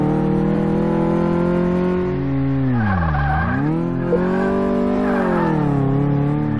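A Honda Civic's four-cylinder engine in Car Mechanic Simulator 2018 drones steadily and loudly, pitch dipping and rising as it slows and reaccelerates, with bursts of tire squeal during cornering.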